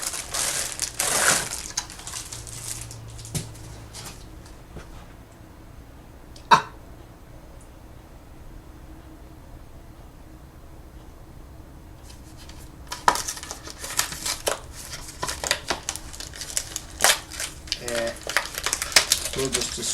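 A cardboard box is crushed and torn apart up close in irregular bursts of crunching, snapping and crumpling, with a quieter lull in the middle and one sharp crack early on. No one talks.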